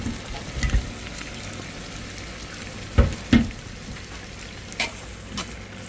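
Sliced onions, four of them, sautéing in a hot pan, giving a soft steady sizzle with a few louder scraping stirs near the middle and end, no voices.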